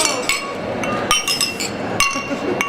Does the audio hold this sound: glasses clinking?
yes